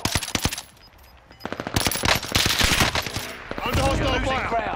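Bursts of automatic gunfire in the battle royale game Call of Duty Warzone, rapid cracks in clusters with heavier sustained firing near the end, mixed with game effects and brief talk.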